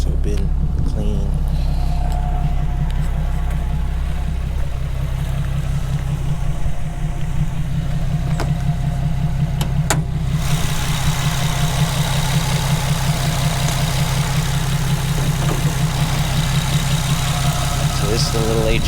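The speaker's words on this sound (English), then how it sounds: "So this is the little HR that was making all the noise just now." Holden HR car engine idling with a steady low rumble that grows rougher and louder partway through, continuous and close, with brief voices over it.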